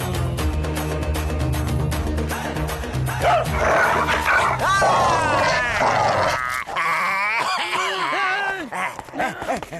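A dog barks and yips amid a busy comedy film scene, its calls mixed with music, voices and grunting effects that stay loud throughout.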